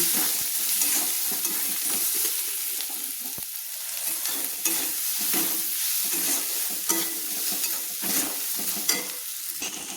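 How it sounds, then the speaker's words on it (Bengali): Spice masala with turmeric and chilli is fried in a pan, giving a continuous close sizzle with frequent stirring scrapes and clinks that recur throughout. "দিয়ে ভালো করে আবারও আমি মশলাটা কিন্তু সুন্দর করে কষিয়ে নিচ্ছি।"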